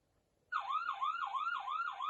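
Emergency vehicle siren alarm from a crossroad traffic control circuit, a loud electronic wail sweeping up and down in a steady repeating cycle about every half second, starting abruptly after a short silence.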